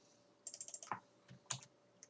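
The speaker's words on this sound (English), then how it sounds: "So you just type in Minecraft Forge." Quick, faint clicks of typing on a computer keyboard, a rapid burst of keystrokes followed by a few scattered taps and a heavier key press.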